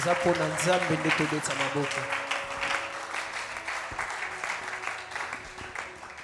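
A church congregation applauding loudly, dense sustained clapping with a voice speaking over it at the start, steady and close throughout.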